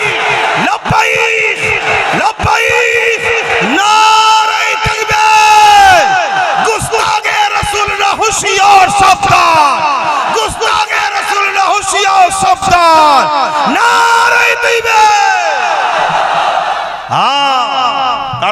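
A large crowd at a religious gathering chants Labbaik Ya Rasulullah and takbir in loud, rhythmic unison, repeated surging shouts rising and falling in close succession.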